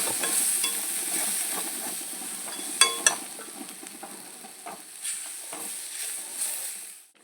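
Ivy gourd tossed with garam masala sizzles and fries in a pan while a spoon stirs it, giving close, continuous hissing broken by scraping strokes and a few sharp clinks against the pan.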